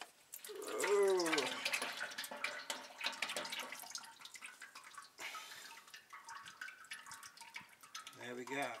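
Engine oil draining from a car into a pan, a steady splashing, trickling pour that starts strongly and continues, with a person talking over it.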